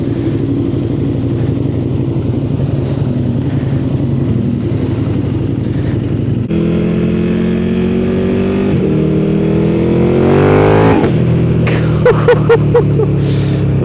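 KTM Super Duke twin-cylinder motorcycle accelerating hard, its loud engine rising in pitch through the revs, dropping briefly with a gear change and climbing again, then a few sharp crackling pops near the end, close and without talk.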